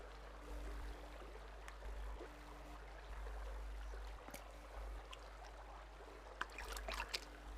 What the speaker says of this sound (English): we got nice water sound